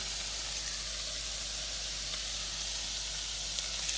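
Sausages browning in a hot pan give off a steady, even sizzle and hiss that runs unbroken throughout, fairly close and with no voices over it.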